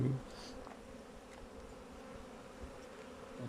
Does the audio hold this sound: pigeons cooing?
no